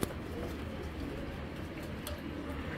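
Pigeons coo softly amid a steady background hiss and hum, the low throaty calls blending into a continuous murmur with a few brief brighter flutters, no speech present.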